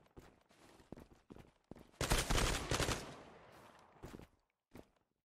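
MP7 submachine gun with a Quantum suppressor fired in the Zula shooter game, short muffled bursts and a sustained rattling volley, interspersed with footstep-like taps, fairly quiet overall.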